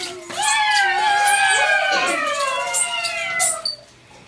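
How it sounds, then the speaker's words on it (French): A cat gives a long, loud, wavering meow that rises and then falls, nearly four seconds of drawn-out crying with no talking over it. "le chat se met à miauler fortement."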